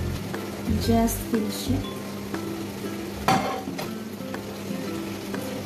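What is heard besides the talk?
translucent onions sizzling in a pan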